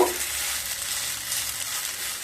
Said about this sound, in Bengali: এইভাবে উল্টে পাল্টে দুটো সাইড খুব ভালোভাবে ভেজে নেব।